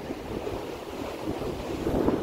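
Sea waves at Muara Beach, Brunei, with a beach lined by casuarina pines: a steady broadband wash of surf mixed with wind rumble on the microphone, continuous and fairly soft with no voices.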